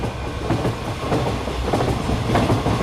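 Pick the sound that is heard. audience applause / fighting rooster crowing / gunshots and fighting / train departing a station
train departing a station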